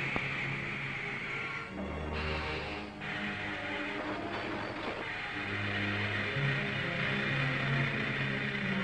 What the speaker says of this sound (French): Le train arrive à l'heure à son point de relais.